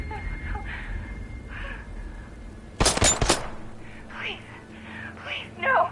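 A short burst of gunfire in a video game, one loud cluster of shots standing out midway through quieter game ambience, with voices heard before and after.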